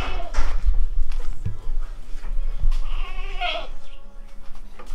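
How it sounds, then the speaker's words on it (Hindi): Goats eating grain feed on a farm, with bleats and munching mixed with livestock noise and a person's voice in the background, close and fairly loud throughout. "दाना डाल दिए बकरों को, बकरे खा रहे हैं।"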